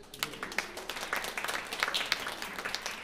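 Applause from a concert audience at a brass band performance, a dense patter of many hands clapping at moderate distance, steady throughout with no talking.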